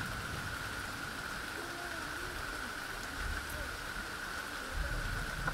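Heavy rain pours steadily on a campsite sheltered beneath a giant rock, a constant soft hiss of drops with occasional louder splats near the end.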